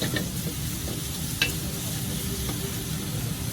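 A chef stir-fries plain noodles with vegetables in a pan at a Thai street food kitchen, a steady close sizzle with sharp clanks of the utensil against the pan.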